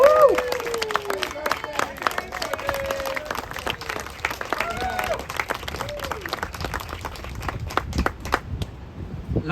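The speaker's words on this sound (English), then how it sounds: "I'd like you to start with a big energy applause" Applause and cheering from a birthday celebration crowd in Malibu, steady clapping with voices and whoops mixed in, fairly close and sustained before cutting off near the end.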